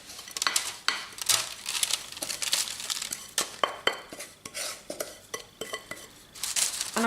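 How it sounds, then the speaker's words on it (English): Date flapjack mixture for raw vegan chocolate bites is spooned into a pre-lined baking tray, giving irregular scraping, clinking and crinkling of utensils against the tray and paper, close and fairly quiet. "So I'll just put these into my pre-lined baking tray."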